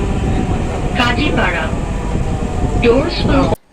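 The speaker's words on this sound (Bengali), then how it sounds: "মেট্রো রেল করে যাচ্ছি মতিঝিলের উদ্দেশ্যে" A constant rumbling hum of a Dhaka metro rail train in motion, with a few voices speaking faintly over it before it cuts off abruptly.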